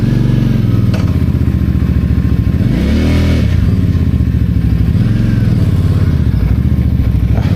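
A Benda Napoleon 450 cruiser motorcycle engine runs loud and steady close by, with a rising and falling rev swell in the middle, alone with no talking.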